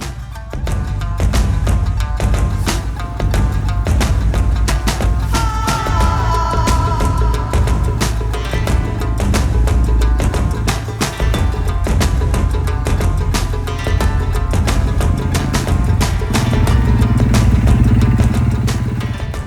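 A quad bike's engine runs continuously at a desert camp, a steady close rumbling drone with clattering revs throughout.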